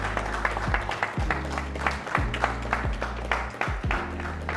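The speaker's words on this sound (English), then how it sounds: "A round of applause for her." An audience applauds at a pitch competition grand finale, steady clapping mixed with a rhythmic musical bass pulse.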